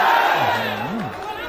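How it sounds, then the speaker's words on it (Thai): Muay Thai fight crowd of boxing fans roaring and cheering loudly and steadily throughout, a dense wall of voices with rising shouts. "ต่อยชามนี่ส่งเสียงเชียร์ได้ใจจริงๆครับ"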